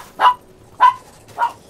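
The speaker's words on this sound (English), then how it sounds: "Dog is going crazy in the background." A dog barks in the background, three evenly spaced, fairly loud barks in quick succession with quiet between them and no talking.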